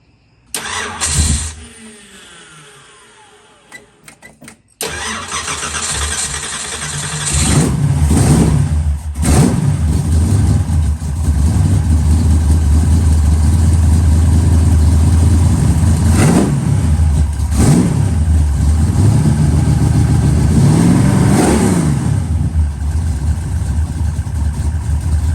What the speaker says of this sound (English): That MSD Dyna Force starter, you heard it, spun it over with ease.